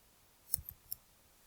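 A few faint, quick computer mouse clicks tap out in a quiet room while working in a Canva design screen, three light clicks in close succession.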